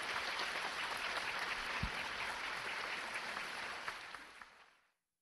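Sustained applause from a lecture-hall audience at a talk in Nagoya, a dense steady patter of many hands clapping for about five seconds before quickly dying away, with no voices over it.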